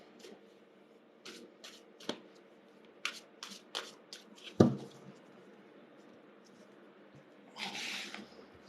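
Oracle cards shuffled by hand during a card reading, a series of quick crisp riffling bursts with soft taps and one sharper slap, followed by a brief hissing shuffle near the end, close and fairly quiet with no talking.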